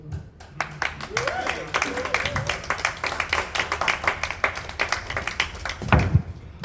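An audience at a live jazz performance claps for a trumpet player, steady clapping near and moderately loud, with a few voices under it.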